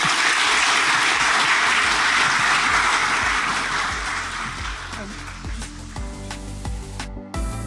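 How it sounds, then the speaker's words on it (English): Studio audience applause for podcast guest Paul Rogers, an ecommerce consultant, loud and dense at first, then thinning as a music sting with a steady beat comes in underneath and carries on toward the end. "Give a round of applause to Paul, please."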